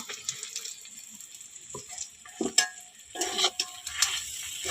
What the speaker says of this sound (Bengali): নেড়ে চেড়ে নামাবো একটু।